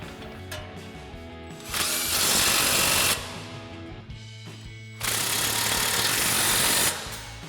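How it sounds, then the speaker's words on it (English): An impact wrench fitted with a 19 mm swivel socket and extension fires in two loud, sustained bursts of about a second and a half each, tightening a truck's tie rod and upper ball joint nuts, with quieter shop noise between. "we'll grab our 19 mil swivel and extension on our impact again. We'll tighten down our tie rod nut as well as our upper ball joint nut"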